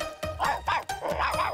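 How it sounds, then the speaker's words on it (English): A cartoon dog creature barks in a quick series of yips and bow-wows, several bursts in close succession, loud and near with no talk over it. "Now do your barking, jumping, drooling thing so we can scare that genie jeweler"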